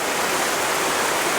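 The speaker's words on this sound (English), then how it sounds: "This waterfall has never been recorded on video ever." A remote, long-forgotten waterfall roars in a steady, dense rush of falling water, close and continuous with no voices over it.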